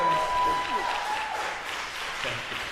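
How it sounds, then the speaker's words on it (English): Applause from the audience at a town board meeting, a steady wash of clapping that swells early and gradually thins out, with a voice speaking over it. "It's been a while since I've gotten this much applause"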